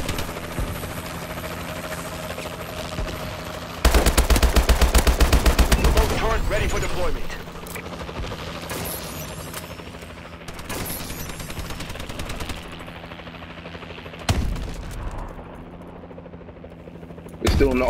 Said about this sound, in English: They're trying to shoot the chopper.